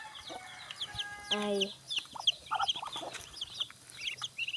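A mother hen clucks and scolds stray duck chicks on a farm, with sharp close clucks, chick peeps and a short crow-like call over a busy yard; a person murmurs briefly.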